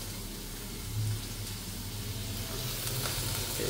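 Margarine sizzles in a casserole with chicken breast pieces, a steady close frying hiss running throughout with slight rises and stirring sounds.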